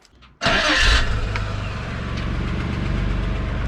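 A Nissan R31 Skyline's engine cranks and catches with a loud burst, then settles into a steady, slightly uneven idle close by.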